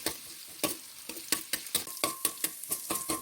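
Ginger and garlic sizzle and fry in a pan while being stirred, with a steady close crackle broken by regular scraping strokes of a utensil, no voices.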